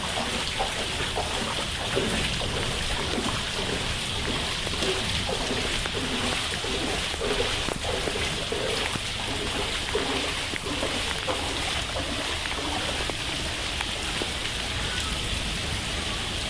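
Steady rain pours over a flooded park ground, a dense continuous hiss of drops striking standing water, even and loud throughout with no voices.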